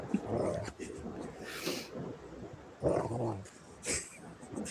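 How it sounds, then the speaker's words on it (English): An excited dog whines and growls in bursts near the microphone, high yelps mixed with low rumbling growls, with a person talking over it. "my dog is like going nuts"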